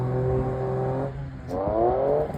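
A 1200hp Vauxhall Corsa engine drones at high revs, then drops out briefly as the gear selector shifts before the engine climbs again in a rising rev, loud and close.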